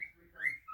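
A pet bird gives a short, clear whistle that rises and swells, then briefly returns. It is close and alone in an otherwise quiet room.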